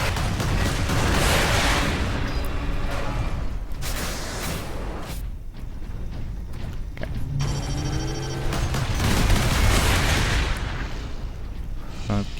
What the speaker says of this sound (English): God, he's got a lot of bloody servo turrets.